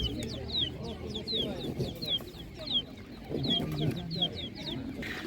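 Chickens of a small breed, hens and chicks, cluck and chirp at an outdoor animal market in Ivano-Frankivsk region, with a dense, repeated clucking and peeping chorus running throughout, close and moderately loud, over background crowd murmur.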